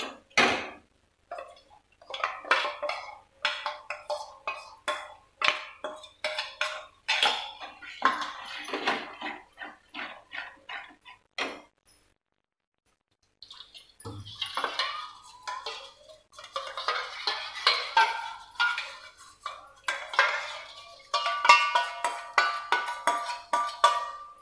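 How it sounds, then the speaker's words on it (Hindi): Masala for raw banana curry is fried and stirred in a pan. A spoon scrapes and clinks against the metal in quick, irregular bursts, pauses briefly, then carries on with busier stirring and sizzling. "और फ्राई करेंगे मसाला को।"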